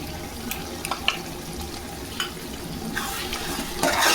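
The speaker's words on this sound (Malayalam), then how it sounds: "ശേഷം നന്നായി ഇളക്കി കൊടുക്കുക." Ginger-garlic paste fries and sizzles in a pan for a chicken biryani, with a steady hiss and scattered scraping clicks of a spoon stirring, close and fairly loud, no talking.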